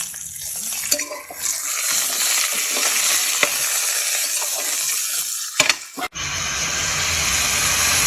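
Vegetables for sambar, including bottle gourd, drumstick and radish, sizzle continuously in a pan, with a few sharp clanks of stirring against the metal and a brief burst of splashing water near the end.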